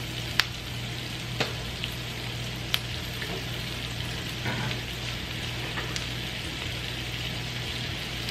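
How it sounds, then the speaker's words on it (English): Garlic paste and onions sautéing in a pan, a steady soft sizzle with a few sharp isolated pops and crackles, fairly quiet and close, with no voices. "I'm just gonna saute this until the onions are translucent."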